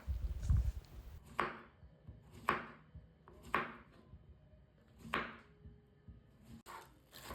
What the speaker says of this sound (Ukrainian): я беру два кабачка вагою 1 кг і нарізаю кожен кабачок такими товстими колечками